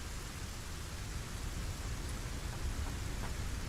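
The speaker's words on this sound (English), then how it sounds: "Hey, it's raining again." Rain falls in a desert area of the video game Satisfactory as a steady, even hiss, with a low rumble underneath. It holds at a constant, moderate level throughout, and no one talks.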